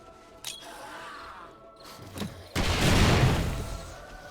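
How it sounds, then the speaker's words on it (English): Grenades and pipe bombs go off in the video game 7 Days To Die: a few scattered distant bangs, then a sudden heavy blast with a long rumbling roar that stays loud to the end. "Then switch over to the contact grenades to set them all off."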